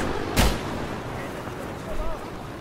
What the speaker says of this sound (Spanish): Me están disparando de allá